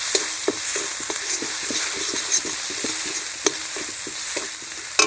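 Spices with a little turmeric fry in hot oil with ginger and garlic for Bengali doi katla, a steady close sizzle broken by repeated scraping strokes of a stirring spoon, with no voices.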